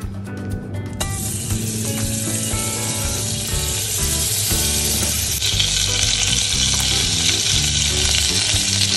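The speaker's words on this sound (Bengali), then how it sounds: "রসুন ভাজা হয়ে গেছে, এখন সবজিগুলো সব দিয়ে ভেজে নেব" Garlic with chopped carrot, capsicum, beans, onion and green chilli frying in a pan for pasta, a loud continuous sizzle that swells sharply as the vegetables go in, with clinks of stirring throughout.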